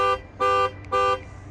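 A 2021 Dodge Charger GT panic alarm set off from the key fob blares in three loud, steady horn-like honks, each about a quarter second long with short gaps between them, heard alone with no talk.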